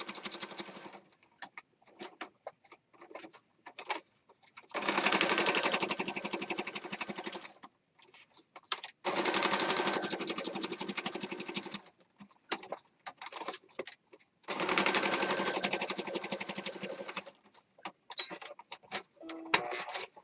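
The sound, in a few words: sewing machine sewing mixed media collage pieces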